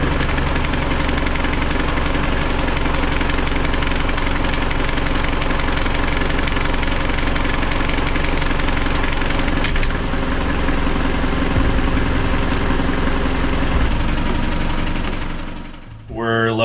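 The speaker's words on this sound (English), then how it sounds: "You can tell it's kind of trying to start, and then it like clunks and jumps into gear." A car engine labors and sputters while trying to start, a rough, loud continuous rumble with knocking vibration, ending in a clunk as it jumps into gear near the end.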